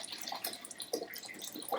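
Filtered water pours into a pitcher in soft, uneven splashing bursts, faint and close by, with no voices.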